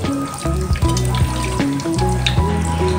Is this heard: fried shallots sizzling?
yes